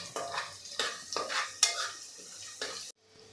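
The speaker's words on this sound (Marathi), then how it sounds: "इथे काजू घेतलेले आहे आणि सोनेरी रंगावर आपल्याला हे परतवून घ्यायचे आहे" Cashews, ten to twelve of them, fry toward golden in a pan for matar pulao, with bursts of sizzling and stirring scrapes in repeated waves, close and clear, then a sudden drop to near silence at the end.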